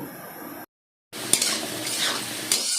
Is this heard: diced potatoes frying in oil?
yes